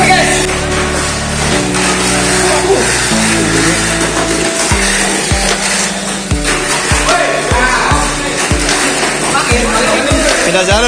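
Tamiya mini 4WD toy race cars whine around a track at a lively standard-box race, their buzzing motors rising and dropping with regular clattering passes as excited voices talk and cheer over them.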